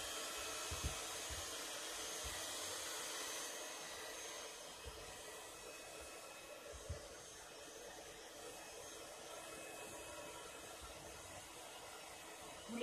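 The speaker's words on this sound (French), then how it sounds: "je vais sécher, je vais faire un petit peu de bruit" A hair dryer blows steadily to dry paint for a rust effect, a continuous close whooshing hiss with faint knocks underneath and no talking.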